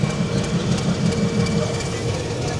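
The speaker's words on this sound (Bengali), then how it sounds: "আমাদের ট্রেন এখন ছেড়ে যাচ্ছে মোগলসরাই থেকে" A passenger train pulls out of Mughalsarai (Deen Dayal Upadhyaya) station, heard from on board as a loud, continuous low rumble with rhythmic wheel clatter, and voices faintly underneath.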